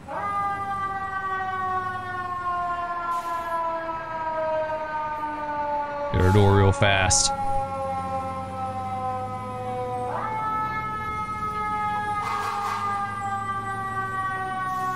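Fire engine siren wailing in rising and falling sweeps at a late-night car fire, loud and close, with a sharp burst of higher yelps partway through and voices talking briefly over it.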